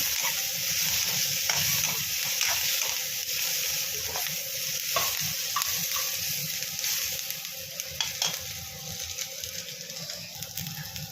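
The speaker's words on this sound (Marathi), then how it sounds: "त्याला अजून थोडं आपण परतवून घेऊ तुम्ही बघाल तर कांद्याला जो आहे तो रंग चढत आलेला आहे लालसर होत आलेला आहे अजून थोडा परतवून घेऊ" Onion is sautéed in oil in a kadhai for a Kolhapuri mutton rassa, a steady close sizzle broken by repeated scraping stirs of a spatula against the pan.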